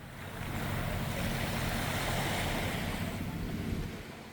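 Waves washing along the seashore of Daeijakdo, an island on Korea's west coast, a steady broadband surf rushing at moderate loudness throughout, mixed with wind buffeting the microphone, no voices.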